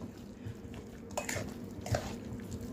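Potatoes being stirred in a cooking pot, soft scraping and clinking of a utensil against the pot over a low background, with a couple of louder knocks and no talking.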